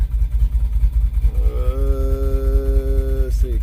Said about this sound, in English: Give it a little throttle.